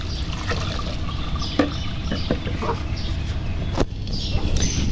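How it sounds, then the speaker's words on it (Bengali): Mixed leafy greens washed by hand in water, with soft splashing, trickling and sloshing close by and a few brief clinks, while a faint voice and bird calls sit in the background. "শাকটাকে ধুয়ে নিতে হয় নাহলে তিত্তা লাগবে"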